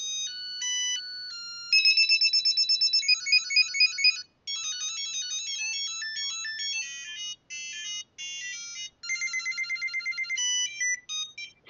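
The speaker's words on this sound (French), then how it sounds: "allons voir ce qu'on a comme sonnerie" A Samsung SGH-A300 mobile phone plays a series of bright, beeping polyphonic ringtone melodies one after another, clean and close, with short gaps between tunes.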